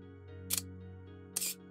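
A camera shutter fires twice in quick succession, crisp and close, while photographing water drops indoors on wooden floorboards over a faint steady hum.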